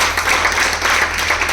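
An audience claps for a family at a singles meet, a dense, continuous round of applause close by that holds at an even level with no voices.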